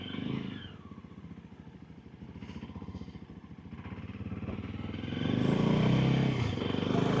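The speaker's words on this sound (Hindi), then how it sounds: "इंजन को मैंने इसके टेस्ट करना है।" A 2026 VOGE GY 300 Rally motorcycle engine runs with a rapid, even thumping pulse, idling close by and then swelling louder as it revs near the end.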